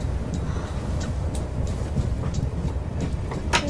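A train rumbles steadily along the tracks, low rolling noise with occasional sharp metallic clicks and squeaks from the wheels.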